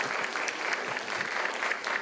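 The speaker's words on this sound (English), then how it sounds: "Keep that applause going." An audience applauds after a poetry slam performance, with steady, dense clapping that holds at an even level for the whole stretch.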